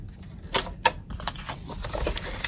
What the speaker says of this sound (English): let's get the trimmer really quickly and we'll cut these down.